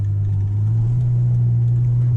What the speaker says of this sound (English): So we'll downshift to second here.